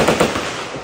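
A short burst of AK-47 gunfire at a shooting range in Saigon, Vietnam: loud, sharp cracks run together with a dense, ringing wash between them and no talking.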